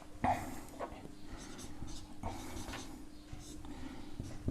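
Something writes on a board during a class 10 geometry lesson on the converse of the Pythagoras theorem: faint, scratchy strokes come in short separated bursts, close and without speech.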